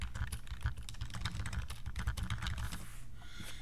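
Steady, fast clatter of typing on a computer keyboard, with dense, close key clicks continuing throughout at an even level and no talk.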